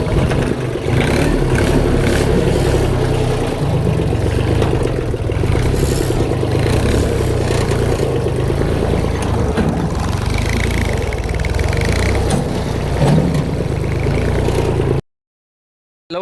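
A tractor engine runs loud and close as the tractor pulls forward, a steady rumbling drone with some clatter throughout, cutting off abruptly near the end.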